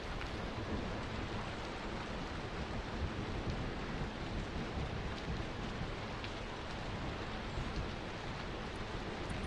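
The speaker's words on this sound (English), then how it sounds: "This is a long storm" Steady heavy rain pours down in a thunderstorm in the video game Against the Storm, a dense constant hiss with low rumbling underneath and no voices.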